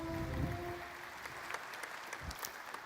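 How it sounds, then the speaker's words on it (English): Applause from the audience at the opening ceremony of the IAC 2023 space congress in Baku, a steady, moderately faint patter of clapping across a large hall with no voices over it. "Please join me in a round of applause"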